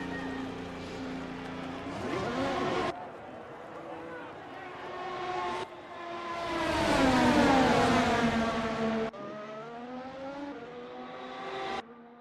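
A Ferrari race car drives down the pit lane at Hockenheimring with a loud, sustained engine drone, shifting pitch and rising in the middle, while commentators talk over it.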